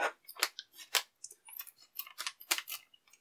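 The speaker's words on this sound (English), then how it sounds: "Hopefully I cut a cape as I use the scissors" Scissors snip through a plastic Lego collectible minifigure bag in a quick run of sharp, close cuts and crinkles, loud and alone with no talking.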